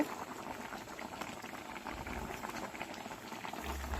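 Egg curry boiling in a pot, a steady dense bubbling simmer that continues throughout at moderate level, close by, with no talk.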